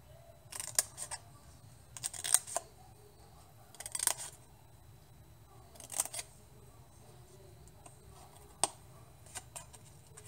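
Scissors or a blade notching a cardboard box, producing short crisp snips in separate clusters spaced a second or two apart, close and fairly quiet.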